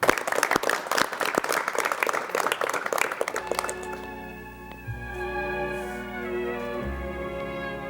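A television studio audience at a 1986 Korean KBS broadcast bursts into dense, rhythmic applause for about three seconds, then it fades as a sustained orchestral introduction to a song begins.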